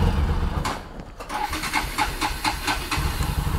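A Bajaj Pulsar NS200 motorcycle engine cranks and catches, followed by a series of rhythmic mid-pitched pulses as it settles into a rough idle, heard close and alone.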